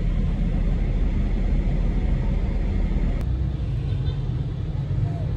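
Road traffic in congested stop-and-go conditions: a continuous low rumble of car engines and tire noise close by, steady throughout, with a brief sharp click partway through.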